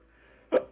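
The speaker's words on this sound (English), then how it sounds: "I've still got the hiccups" A single sharp, brief hiccup bursts out close by after a near-silent pause, then fades quickly.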